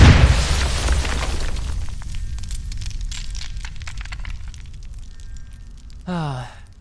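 Grenade blasts in a tense animated fight: a loud, deep boom opens, followed by several seconds of rumbling, crackling debris that slowly fades, with a brief voice-like tonal cry near the end.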